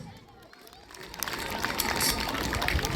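Clapping swells from quiet to a broad burst of applause from a church congregation, growing louder and continuing steadily.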